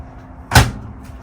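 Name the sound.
motorhome microwave door opening or closing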